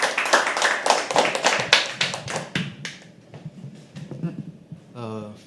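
Audience hands clapping at a live poetry open mic night at The Habitat as a performer comes on stage, a dense rapid patter of claps that tapers off into scattered claps and a brief voice.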